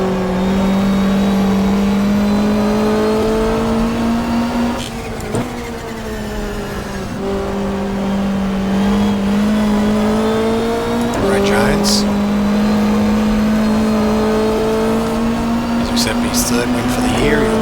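Touring cars in a sim racing game at Winton, engines droning loudly and continuously, with pitch dips and rises as they shift and corner, while a commentator talks throughout.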